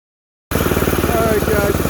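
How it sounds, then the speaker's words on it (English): Tillotson 212R small engine idling close by, a steady loud throbbing putter that starts abruptly after half a second of silence, with a voice talking over it. "On the Tillotson 212R, okay, we have the motor idling."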